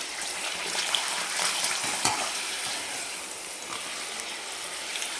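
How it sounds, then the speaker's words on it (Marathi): Urad dal papad frying in hot oil, a steady broadband crackle and sizzle with brief louder pops, continuous and close with no voices. "तर आपण ह्याच तेलामध्ये लगेचच तळून घेणार आहे पापड."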